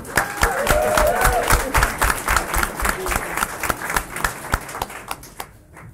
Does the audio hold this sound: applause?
yes